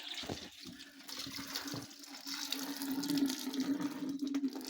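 Fresh carrot juice trickles and splashes steadily out of a homemade press driven by a two-ton jack, a continuous liquid flow with a faint hum beneath that grows slightly louder toward the end.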